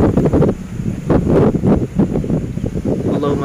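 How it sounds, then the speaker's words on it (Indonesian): Strong gusts batter the microphone at a cemetery, producing heavy buffeting low rumbles that surge and fade in irregular bursts, loud and close throughout. "mohon maaf apabila suaranya terganggu oleh angin yang begitu kencang"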